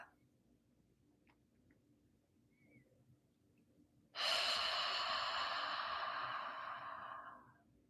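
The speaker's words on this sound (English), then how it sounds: "in your next exhale, open your mouth. And as you breathe out," A long open-mouthed "ha" exhale in ujjayi breathing, a loud breathy rush starting suddenly after near silence and lasting about three seconds before fading, close to the microphone.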